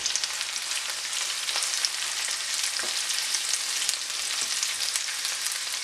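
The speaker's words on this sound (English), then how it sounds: "you're going to heat the oil in a pan until it's hot. And then you're just going to add the onions and let them saute for a bit." Onions sauteing in hot oil in a pan make a continuous, even hiss of sizzling with faint crackles, close and moderately loud, with no talking.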